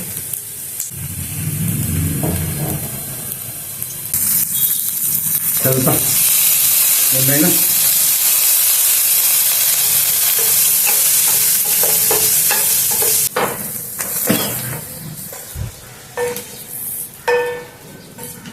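Garlic fries in a pan, giving a loud, close, continuous sizzle and hiss, broken by scraping stirs and clinks of a utensil, with brief voices talking near the end.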